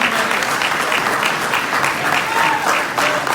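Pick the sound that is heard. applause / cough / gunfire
applause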